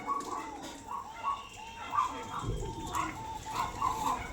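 Pigeons coo softly in repeated low, throaty phrases at a bird market stall, fairly close, with a voice murmuring faintly underneath.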